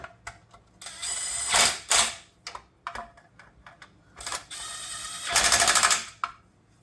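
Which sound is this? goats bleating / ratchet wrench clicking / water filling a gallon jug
ratchet wrench clicking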